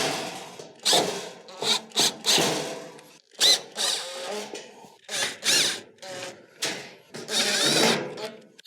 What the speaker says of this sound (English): go around the perimeter and replace your Phillips screws that hold it on.